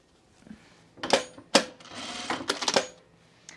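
A sewing machine stitches the side seams of a wool blazer: short irregular mechanical bursts of whirring and clatter, close and fairly loud, separated by brief pauses, with quiet room tone at the start and end.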